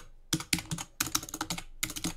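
Rapid keystrokes on a computer keyboard come in three quick, close bursts of clicking separated by short pauses, with no voices.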